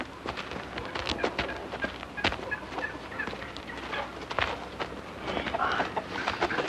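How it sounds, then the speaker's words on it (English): Chickens and a few laying hens cluck and chatter in a crate on a farm, a busy, continuous flock with scattered sharper calls. "A crate of chickens and a few laying hens."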